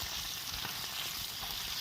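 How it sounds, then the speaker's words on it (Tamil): Tilapia fish frying in a pan, a steady close sizzle with faint crackles and stirring, no voices. "சிலேப்பி வந்து வறுக்கிறது ரொம்ப கஷ்டங்க"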